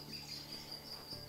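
Farmed crickets in an egg tray pen on a Kenyan cricket farm chirp steadily, a faint, dense, continuous high trill over low background hum, with no voices.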